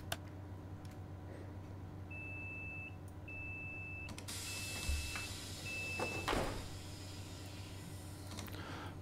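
Train doors closing in Train Sim World 4: a series of short electronic warning beeps repeating in pairs, followed by the rush and thump of sliding doors shutting over a low engine hum.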